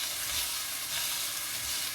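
A turkey with apples and cider sizzles steadily as it browns in the pan, giving a soft, even frying hiss with faint low bubbling underneath.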